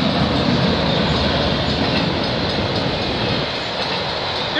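A loud, close freight train of auto racks rolls steadily past, a dense continuous roar of wheels and rattling cars with faint clicking, filling the whole stretch without a break or any voices.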